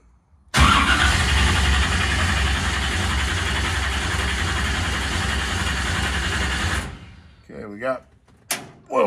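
A 1967 car with a 496 cubic inch stroker engine cranks and fires, then settles into a loud, steady, close rumbling idle for several seconds before cutting off, followed by brief clunks.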